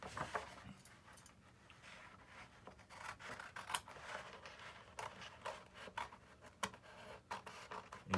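Small scissors snipping decals for a Freewing F-14 model jet, a quiet close-up run of light cutting and rustling sounds with irregular sharp snips throughout.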